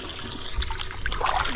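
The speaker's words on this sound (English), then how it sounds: "Let me toss back one of these reds while I'm at" A red drum fish is released back into shallow coastal water during winter fishing, with soft trickling and light splashing running steadily and close by.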